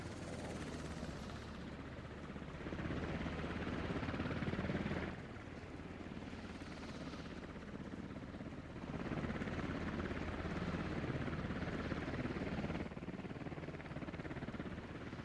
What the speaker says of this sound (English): rotors are bending up for the updraft to pick the helicopter up